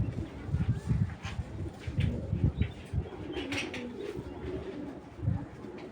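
A pair of Afsan grizzle pigeons coo softly and repeatedly at close range, low murmuring calls pulsing steadily with faint background bustle.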